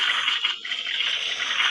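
Water being placed in the Minecraft video game, a loud steady rushing and gushing splash that fills the whole short moment with no talk.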